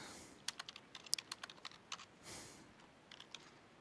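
Fingers tap rapidly on a computer keyboard, a quick run of light, close keystrokes, a soft swell, then a few more scattered taps, faint and with no voices.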